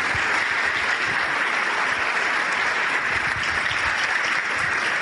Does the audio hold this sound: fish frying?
no